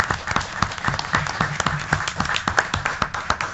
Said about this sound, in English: And Erin is clapping, and I think we all should